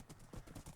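A horse galloping in a video game, with a steady rhythmic clip-clop of hooves, fairly faint and alone.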